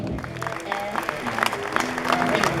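A crowd at a classic motor show claps and cheers as TV presenter Quentin Willson walks on stage, the applause steady and dense with some voices mixed in.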